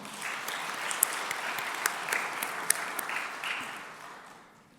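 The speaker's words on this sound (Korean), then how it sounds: "박수로 맞아 주십시오" A church congregation at a Sunday evening service applauds to welcome a young member coming up to give testimony, the clapping steady and full before fading out at the end.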